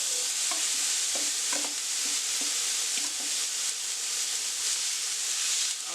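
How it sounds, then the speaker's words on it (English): One pound of ground beef frying in a hot pan, a steady broad sizzle throughout with occasional light scraping taps as it is stirred, no voices. "We're starting off by adding 1 pound of ground beef to a hot pan."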